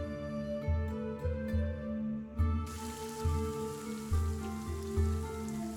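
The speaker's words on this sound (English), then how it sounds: "It's still fucking raining." Steady rain falls as ambient sound for a tabletop fantasy game session, a continuous patter of drops on a surface, with a low repeating musical drone pulsing beneath it and no talking.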